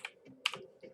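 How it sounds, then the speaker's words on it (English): Loud, crisp key taps from a gaming keyboard: a handful of sharp clicks spaced irregularly over one second, close up with no talking. "keyboard, it makes very loud tapping when I click."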